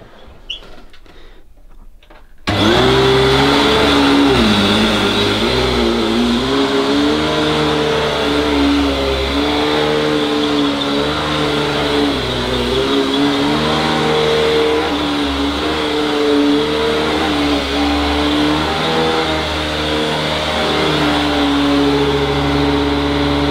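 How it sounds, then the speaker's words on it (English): After a short quiet moment, a loud motor roars on abruptly and keeps running with a steady, powerful droning whine. "It's a absolute beast of a vacuum cleaner."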